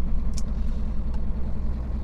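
A vehicle pulls away on a road near Novosibirsk with a steady low engine rumble and road noise, close and continuous for a couple of seconds.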